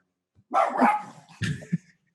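A dog barks sharply a few times nearby, with short loud bursts and a brief yip, heard on its own during a casual conversation.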